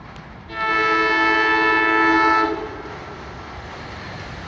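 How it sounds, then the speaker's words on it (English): An NJ Transit train running from Hoboken to Gladstone passes Mountain Station in South Orange, New Jersey, and sounds its horn in one loud, sustained chordal blast of about two seconds, followed by a lower rumble of the train. "We're seeing a train from Hoboken to Gladstone, pass by Mountain Station now."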